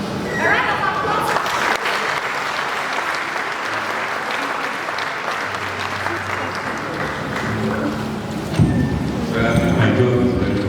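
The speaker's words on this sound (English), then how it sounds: "A round of applause." Sustained audience applause fills a hall at the opening of a professor's valedictory lecture, a dense steady clatter of many hands lasting throughout, with voices talking faintly beneath it.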